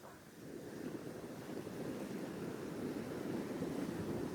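Ocean surf washing steadily along a shore where someone is fishing, a continuous broadband rush of breaking waves with some wind noise on the microphone, fairly close and with no speech.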